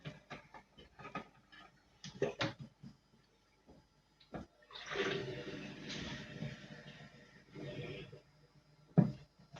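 A repaired aquarium filter pump is switched on and runs with water, giving some clicks and knocks, then a gurgling, rushing flow of water with air that fades and ends in a sharp knock.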